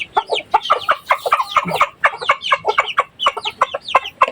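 Silkie chickens cluck busily up close in a continuous, overlapping chorus of short, chattering calls with no one speaking.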